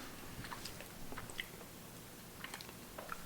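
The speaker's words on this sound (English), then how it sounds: "It tastes and feels like I'm chewing a big raisin" Quiet, close chewing of a soft protein bar, a few faint moist bites and mashing sounds over a low room hiss, with no talking.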